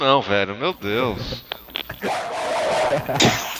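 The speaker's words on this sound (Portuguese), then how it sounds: "Tem um cachorro latindo" A dog barks in short bursts, moderately close, as someone talks over and between them.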